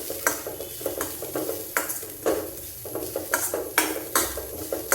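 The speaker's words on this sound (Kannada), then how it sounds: "ಇವಾಗ ಕಾಯಿನೂ ರೋಸ್ಟ್ ಮಾಡ್ಕೊತಾ ಇದ್ದೀನಿ." Coconut roasting in a pan on low flame while being stirred, with repeated scraping and clinking strokes over a soft steady sizzle, close and fairly loud, no talk.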